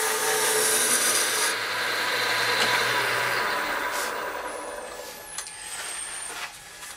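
A lathe tool cuts downhill across a wooden bowl blank as it is roughed out. It makes a continuous, close, rasping hiss that softens and thins toward the end.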